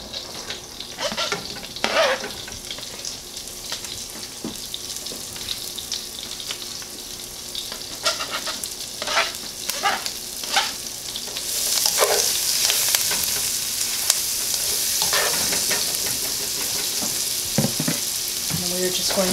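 Herbs hitting a sauté pan with butter and turkey drippings for a turkey fricassee, a loud continuous sizzle that swells midway, with intermittent stirring clatter and scraping.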